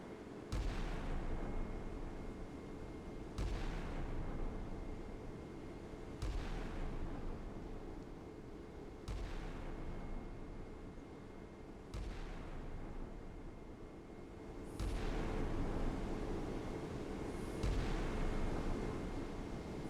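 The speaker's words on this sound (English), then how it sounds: "Main gun about to engage again." A warship's main gun fires in the naval combat game Sea Power, about seven heavy booms spaced a few seconds apart, each followed by a fading rumble over a constant low background.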